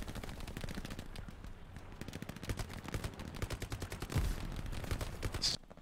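Rapid automatic gunfire from a weapon in the video game Hell Let Loose, a dense string of sharp repeated shots with a heavier burst near the end, fairly distant and steady, no talk.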